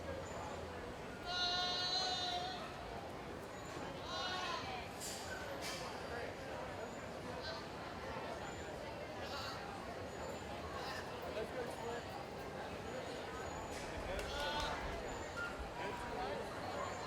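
Market goats bleat in short cries during a 4-H and FFA county fair livestock show in Lawrence County, Ohio, set against a steady crowd hubbub.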